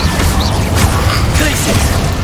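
Incendio fire spell in Hogwarts Legacy, a dense continuous burst of roaring, crackling game effects over a low rumble, loud and close for a couple of seconds, with a voice speaking underneath.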